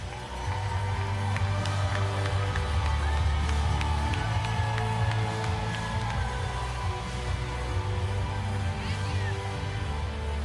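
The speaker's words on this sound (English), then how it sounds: "One more big round of applause for all of our athletes." Crowd at a STIHL Timbersports U.S. women's championship applauding and cheering the athletes, a steady dense wash of clapping and whoops held at even loudness throughout.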